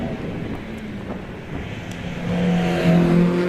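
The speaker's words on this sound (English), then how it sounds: "We now pick up Kat Taylor in the Mazda MX-5." A Mazda MX-5 race car climbs the Loton Park hillclimb course, its engine note rising as it accelerates closer, with wind buffeting the microphone.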